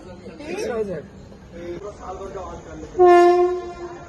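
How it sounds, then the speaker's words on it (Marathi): At a railway station, people chat over distant rail noise as their train arrives, then a loud train horn blares for about a second near the end. "आमची ट्रेन आली"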